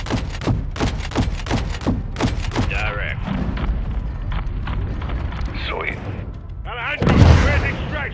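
Rapid close air support gunfire from the Call of Duty: Modern Warfare II campaign rattles in fast repeated bursts, then gives way to a heavy boom, with radio-style voices talking over the battle.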